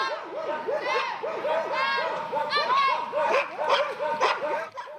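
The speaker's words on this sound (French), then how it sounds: "Près de 200 chiens au même endroit." Nearly 200 dogs at a canine sled-pulling sports gathering bark and yelp together in a loud, overlapping chorus, close and continuous, with high yips mixed among deeper barks.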